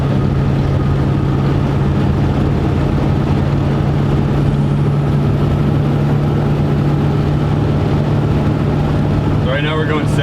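A 1968 Chevy C10 shop truck with a 333hp crate engine cruises at highway speed, a steady low engine drone and road roar running continuously, with people talking over it throughout.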